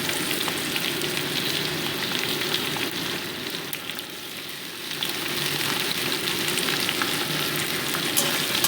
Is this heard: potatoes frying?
yes